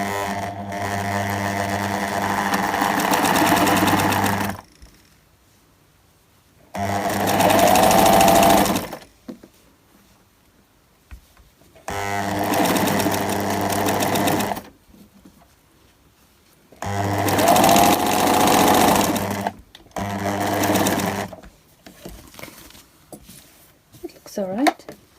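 A sewing machine running a straight stitch on ribbon, whirring in three or four loud bursts of a few seconds each, separated by quiet gaps, with a person talking in between.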